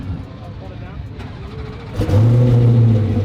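Muffled background chatter, then a Hennessey Venom F5 supercar engine bursts to life about two seconds in and settles into a loud, deep, steady rumble close by.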